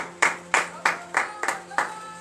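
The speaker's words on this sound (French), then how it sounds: "Donnez l'acclamation au Seigneur Jésus." During a morning prayer service in Benin, the congregation claps in acclamation in six slow, rhythmic, unison beats, each a sharp close strike with a short decay over a faint steady hum.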